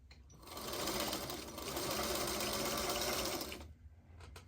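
Sewing machine running steadily and close by as it stitches tiny squares for a calico mushroom quilt block, a continuous mechanical whir lasting about three seconds before stopping abruptly.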